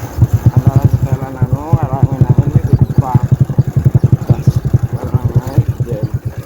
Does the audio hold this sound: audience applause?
no